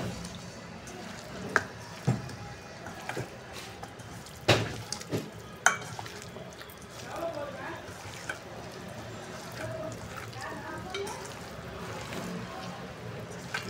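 Chicken 65 pieces coated in masala fry in a pan, giving a steady low sizzle with scattered clicks and a few sharp stirring knocks, while a voice talks quietly in the background.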